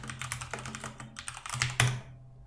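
Computer keyboard typed in quick close bursts while code is written, rapid clattering keystrokes with one sharper key hit, no speech.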